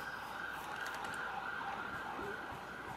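A faint ambulance siren in the video game Minecraft sounds steadily in the distance, holding a constant tone beneath a low background rumble.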